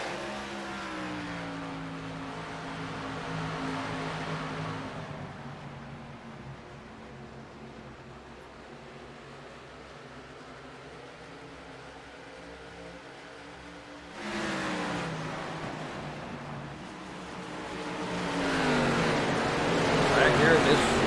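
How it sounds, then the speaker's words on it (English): ARCA race cars at Iowa roar past in waves, the engine drone swelling, fading and building again as the pack circles, with a commentator talking over the track noise. "Back here in this swarm of cars, you see Jason Schilling back there"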